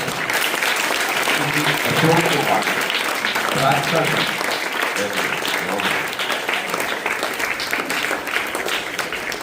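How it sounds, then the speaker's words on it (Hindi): Loud applause for a school captain at a Guru Vandan school event of Bharat Vikas Parishad, steady clapping from a crowd filling the whole stretch, with a voice speaking briefly over it. "तो एक बार अपने स्कूल कैप्टन की जोरदार तालियां"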